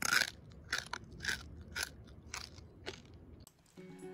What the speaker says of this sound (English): Just listen to the crunch.